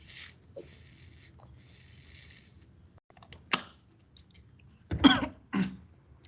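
A single person coughs and clears the throat during a recorded online meeting, a couple of sharp bursts near the end after quieter clicking and faint background hum.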